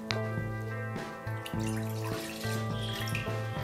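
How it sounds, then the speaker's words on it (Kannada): Milk poured into a cooking vessel while making ragi malt, a steady liquid stream with a resonant ringing tone, briefly broken and resumed several times. "ಆ ಬಟ್ಲಿಗೆ ಮಿಲ್ಕ್ ಆ್ಯಡ್ ಮಾಡ್ಕೊಳ್ಳಿ."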